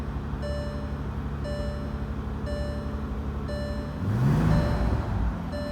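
Door-open warning chime in a 2014 Bentley GTC convertible, sounding as a steady, evenly spaced series of soft tones over a low engine idle, with a rising engine swell midway.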